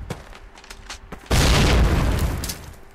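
Faint clicks and small bursts lead into a sudden heavy grenade boom in Call of Duty that rumbles on for over a second.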